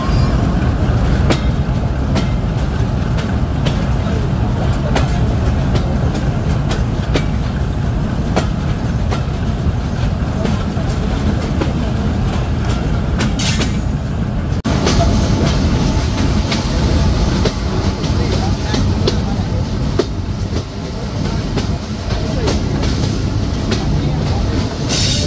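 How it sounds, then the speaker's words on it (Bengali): The Dhalarchar Express, a passenger train running out of Rajshahi, rolls steadily along the rails with a constant loud rumble and rhythmic wheel clatter. The sound holds throughout, with a brief brighter hiss partway through. "ট্রেনটিতে উঠে পড়তে হবে।"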